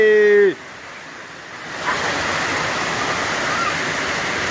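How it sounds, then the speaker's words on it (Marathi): Heavy rain pours down over a farm field where crops had been sprayed, a steady, dense roar of broad noise that fills the scene after a brief tonal sound at the very start. "हे असा पाऊस आलाय"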